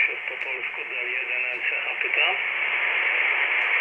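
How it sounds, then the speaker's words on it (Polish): A Radioddity GS-10B receiver plays a distorted single-sideband voice transmission tuned off channel. The garbled, band-limited speech sounds buzzy and warbling, and a steady hiss runs underneath it throughout. "będziemy poza kanałem, nazwijmy to, jeżeli chodzi o SSB, i dźwięk będziemy mieli zniekształcony"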